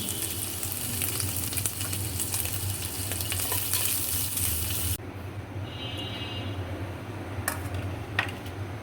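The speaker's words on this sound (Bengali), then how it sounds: "সেই মাংসটা একটু হালকা ভেজে নিব আলাদা করে, আর গোলমরিচের গুঁড়া দিয়ে দিলাম" Meat frying lightly in oil with black pepper sizzles continuously for several seconds, loud and close, then the sizzle drops to a quieter level with a few clinks midway through.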